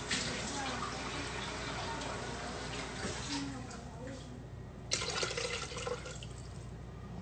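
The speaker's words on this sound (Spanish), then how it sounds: "Vamos a agregar un poquito más de agua." Water pours into a cooking pot used for rice, a steady splashing rush that shifts in tone partway through and stays close and moderately loud.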